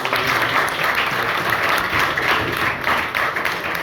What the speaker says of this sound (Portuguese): A salva de palmas para o nosso estudo de casa.